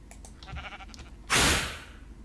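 A sheep bleats in the Minecraft video game, followed by a short loud burst that sounds like a hit or whoosh.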